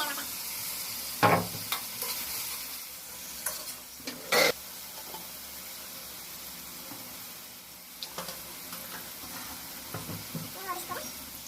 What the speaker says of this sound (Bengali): এখন হচ্ছে আমি কলমি শাকও বাজি করে নিতেছি